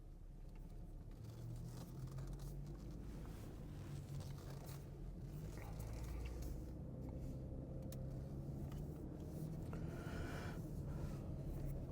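A Porsche Cayenne driving after a front differential swap, a low, even road rumble and drivetrain hum from inside the cabin, steady and subdued throughout.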